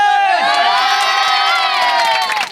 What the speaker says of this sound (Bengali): তালি হবে।